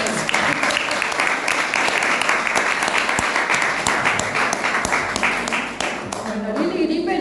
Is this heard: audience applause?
yes